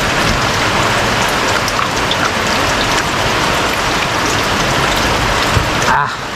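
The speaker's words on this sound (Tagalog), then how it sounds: "Ulan." Steady heavy rain pours down at night during a fishing outing in the Philippines, a continuous close hiss of drops on surfaces with no talking over it.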